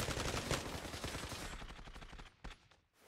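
Luger pistol shots ring out in the online shooter Zula. The quick reports are fairly faint and crowd together in a rapid run before tapering off into quieter scattered sounds.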